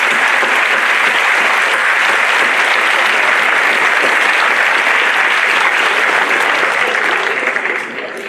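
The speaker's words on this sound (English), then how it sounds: "a big applause." A lecture audience gives a long, dense round of applause that holds a steady, loud wash of clapping for about eight seconds, then tapers off at the end.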